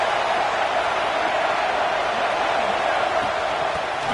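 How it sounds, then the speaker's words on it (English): A fired-up football stadium crowd, a steady, dense roar of many voices with no breaks, loud and continuous. "It's early, but this crowd is fired up. Listen to this noise here."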